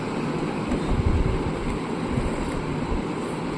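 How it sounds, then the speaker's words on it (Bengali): A household water tap gurgles and rumbles as the water supply starts to arrive, a continuous rushing, sputtering roar heard up close with no voices over it. "কলটা কেমন আওয়াজ হচ্ছে?"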